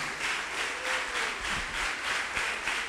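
A church congregation claps for the Lord during an evangelical sermon, a moderate, rhythmic applause that pulses steadily, with a faint voice briefly rising underneath.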